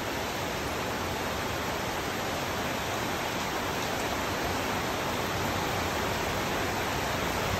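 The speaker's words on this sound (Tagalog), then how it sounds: "Ayan guys, lumakas na naman na ulan." Heavy rain in Novaliches pours in a constant, dense hiss with no break, steady and fairly close throughout.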